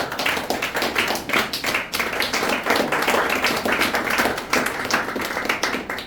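A church congregation claps together in a rhythmic, steady beat that fills the room, with no voices over it.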